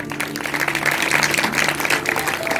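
Church congregation clapping together in a brief, lively burst of applause, fairly loud and continuous, with faint background tones underneath and no clear speech.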